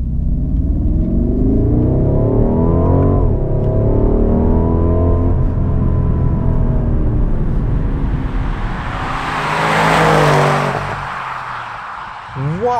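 A BMW M550i xDrive V8 in sport mode, its deep engine drone layered with synthetic sound through the speakers, rising in pitch as it accelerates through gears, then a loud whooshing swell near the end.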